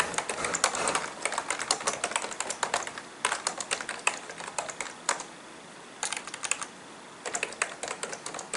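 Someone types subtitles on a computer keyboard: rapid bursts of close, crisp keystrokes separated by short pauses, with no talking.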